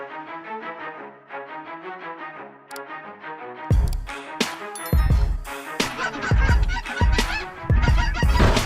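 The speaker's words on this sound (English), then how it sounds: "the increasingly severe invasion of wild geese in Texas" Wild geese honking in a loud, dense flock, their overlapping nasal calls layered thickly throughout, growing louder and harsher partway through with sharper bursts of honks.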